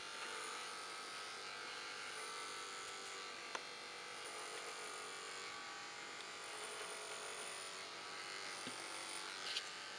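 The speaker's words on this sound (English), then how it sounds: "Keeping the clipper as level as possible." Electric hair clipper running steadily as it cuts short hair during a faded wave brush cut, a soft even buzz held level throughout without talk.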